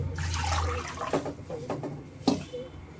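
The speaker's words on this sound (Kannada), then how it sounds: "ನಾವು ಕಪ್ ಮೆಜರ್ಮೆಂಟಲ್ಲಿ ನಾಲ್ಕು ಕಪ್ ಆಗಷ್ಟು ನಾನು ನೀರು ಸೇರಿಸ್ಕೊಂಡು" Water pours into washed rice and moong dal for curry-leaf pongal, giving a soft, fairly faint splashing and trickling that swells, then tapers into small intermittent splashes.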